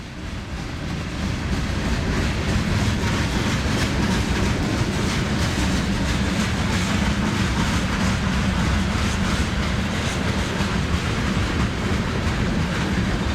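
An old CN freight train of hopper cars rolls steadily past in the Waterloo yard, its wheels drumming a continuous, even clickety-clack that stays close and loud throughout.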